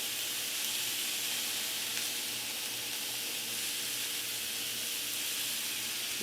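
Minced garlic sizzles in a hot pan as the steady, even hiss of frying, close and moderately loud, with no speech over it.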